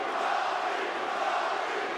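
A mixed martial arts crowd roars steadily for Robbie Lawler during a fight against Covington, a dense, continuous wash of cheering with no break.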